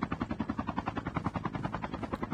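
Helicopter in Call of Duty, its rotor chopping in a fast regular pulse of thumps, steady and fairly close, with no talk over it.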